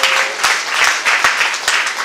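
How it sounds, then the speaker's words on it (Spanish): Church congregation clapping in praise during a sermon, loud and close, with a rhythmic pattern of sharp, regular claps over a bed of scattered applause. "Denle un aplauso al Señor."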